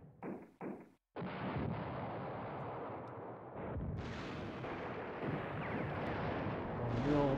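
Artillery fire in the WWII strategy game Command Ops 2, French and German forces clashing at Hannut: two short booms, then a continuous rumbling barrage of overlapping blasts that swells and persists loudly throughout.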